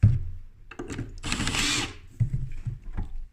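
Torx screws being undone on a Dewalt planer with a power driver, short whirring bursts of a motor with a longer buzzing spin in the middle, close and brief, separated by small mechanical clicks.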